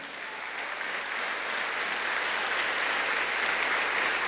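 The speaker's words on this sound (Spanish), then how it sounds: "Dele palmas a Él." A church congregation claps together in praise during a Spanish-language sermon, a dense, even wash of applause that holds steady and grows slightly louder, heard from a moderate distance.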